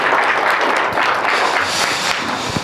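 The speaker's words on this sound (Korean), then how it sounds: "우리 나오실 때 우리 박수로 환영해 주시면 감사하겠습니다" A church congregation at Cheorwon Manna Church applauds to welcome the pastor to the pulpit: a steady, dense wash of many hands clapping that holds at full level throughout.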